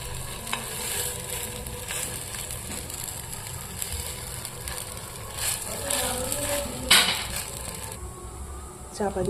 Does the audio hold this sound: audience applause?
no